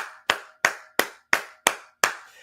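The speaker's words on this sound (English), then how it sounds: "Sorry if I'm clapping and if it's loud." Six loud, evenly spaced hand claps ring out close by, each sharp crack decaying quickly before the next, with no talk between them.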